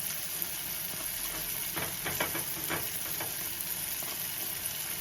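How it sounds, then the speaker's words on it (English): Saltfish and ackee fritters sizzle steadily in hot frying oil, a continuous close hiss and crackle with a few brief louder spatters in the middle and no talking. "fry them properly"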